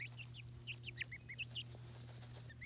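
A chicken takes a dust bath, giving a quick run of soft, close clucks in short bursts over a faint, steady background hum, then a pause and a couple more clucks.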